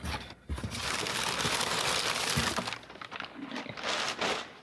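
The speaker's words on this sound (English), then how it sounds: "All the paper and stuff is still in here, so it's going to be kind of loud, so pardon the crinkling for a second." Paper packing crinkles and crackles close by as a yarn parcel is unpacked, irregular rustling bursts and crumpling with brief pauses.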